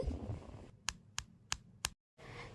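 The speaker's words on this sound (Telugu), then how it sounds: "ఈ ఆనకం ముద్దని మనము గిన్నెకేసి కొట్టినప్పుడు ఈ విధంగా గట్టిగా సౌండ్ అనేది రావాలి" A hardened jaggery syrup ball, cooked for puffed-rice laddus, is tapped against a bowl four times, giving sharp, evenly spaced, close knocks with brief quiet gaps between them.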